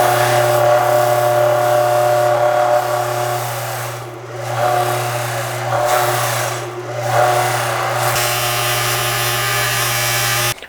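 A bench buffing wheel polishes a trailer hitch, a loud steady motor whine with a low hum, the rasping grind of metal pressed against the wheel rising and easing in several passes, no speech.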